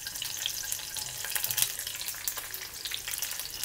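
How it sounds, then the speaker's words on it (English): Garlic halves and aromatics fry in oil in a claypot, a continuous close sizzle with bright crackles and occasional pops and stirring scrapes, no talking. "We just fry them until you can smell the beautiful fragrance coming out from there."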